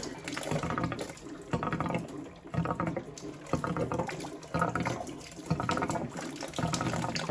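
Water draining from emptied house pipework into a tray beneath it during a plumbing job in the UK, a steady close splashing trickle that rises and falls in uneven surges, with no voices.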